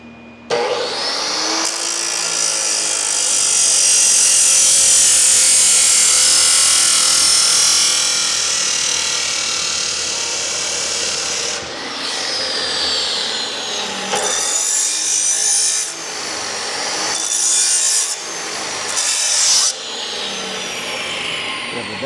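Cutting the metal exhaust header pipe for a Pontiac GTO gives a loud, continuous abrasive grinding whine for about ten seconds, then several shorter bursts separated by brief pauses.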